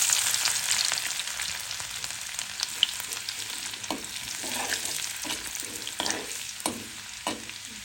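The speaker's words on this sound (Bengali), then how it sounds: "দিয়ে দিলাম তেল, ভাজিটা বাগার দেওয়ার জন্য" Vegetables, including flat beans and potato, sizzling in hot oil for tempering, a steady crackling fry with occasional soft stirring scrapes, close and moderately loud, no voices.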